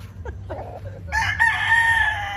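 A rooster crows loudly and close by, one long drawn-out call following a few short clucks.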